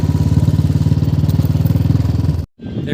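A motorcycle engine near a Brahmaputra riverbank runs with a loud, close, rapid pulsing chug, then cuts out briefly and returns.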